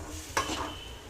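A spoon makes a single quick scrape-and-stir through goat blood fry in a pan, set over a low, constant sizzle that holds for the rest of the moment.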